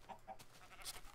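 A Minecraft cow lowing in the video game, two short low moos early on with faint game sounds around them, fairly quiet overall.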